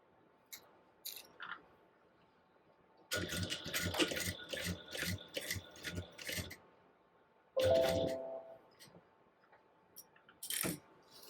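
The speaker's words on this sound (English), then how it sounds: "then we're going to top stitch it all together" A sewing machine runs top stitching around a tote bag, with a steady rapid burst of mechanical stitching for a few seconds, then a shorter run after a pause, with clicks and handling noises in between.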